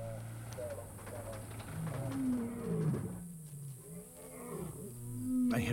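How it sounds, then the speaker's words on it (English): Lions from a large pride roar at night in the African bush, deep rumbling calls rising and falling in a long series, moderately close, with a voice speaking over part of it. "In the blackness, a roar gave the crew their first lead."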